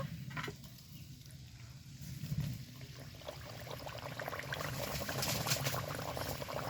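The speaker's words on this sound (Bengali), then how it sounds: "এবার গরম তেলে দিয়ে দিব" Raw potato and flour pitha frying in hot oil, giving a dense, steady crackling sizzle that swells slightly louder toward the end, with no talking.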